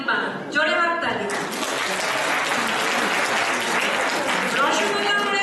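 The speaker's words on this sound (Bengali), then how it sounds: "জোরে হাততালি।" Loud applause from an audience at a Durga Puja celebration, sustained clapping filling the room for several seconds after a brief spoken lead-in.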